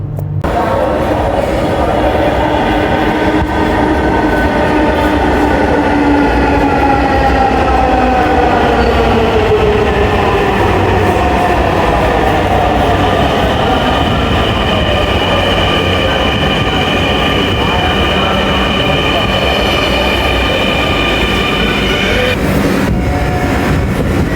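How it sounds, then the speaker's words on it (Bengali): A metro rail train pulls into an elevated station in Dhaka, its loud, steady rumble joined by a descending electric motor whine and rising tones as it slows, close by and continuous throughout. "উপরে ওঠার সাথে সাথেই আমাদের মেট্রো রেল এসে হাজির হয়ে গেল"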